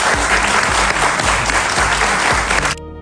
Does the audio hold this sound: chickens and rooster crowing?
no